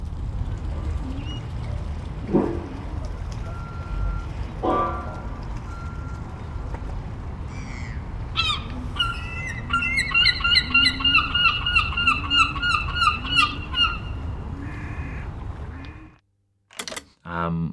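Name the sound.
fish quay ambience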